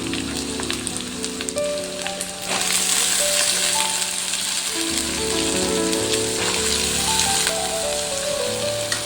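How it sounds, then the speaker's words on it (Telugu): Broad beans drop into a hot tempering of oil, setting off a loud hissing sizzle that swells and stays thick, over tonal background hum and clatter, close to the microphone with no talk. "ఇప్పుడు చిక్కుడుకాయలు వేసేసుకుందాం తాలింపులోకి."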